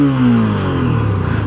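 Honda CB300F motorcycle engine revved while stationary, a loud close drone whose pitch slides steadily down as the revs fall back, with a slightly rough, buzzing edge.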